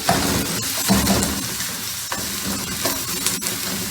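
Fish pieces being chopped and tossed with two metal spoons in a hot pan of frying onions, a continuous loud sizzle punctuated by sharp repeated scraping and clinking strikes at an uneven, busy rhythm, with no talking.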